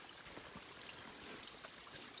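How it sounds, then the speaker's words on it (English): Water flowing through a drainage area beside a mountain trail on the Appalachian Trail, a steady, faint rushing and trickling wash that continues without a break. "I want to say I hear water. There's a number of drainage areas through here."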